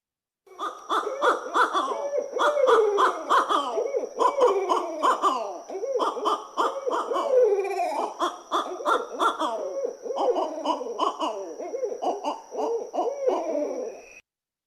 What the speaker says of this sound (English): you're going to hear them both hooting, and this is called the wild monkey call